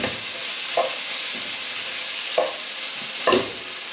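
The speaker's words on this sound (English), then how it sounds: "so now I'm going to put in the tomatoes. Just want to stir around." Tomatoes stirred into fried vegetables in a pan for a Basque marmitako fish stew, with a constant close sizzle and three or four distinct scraping stirs spaced through it.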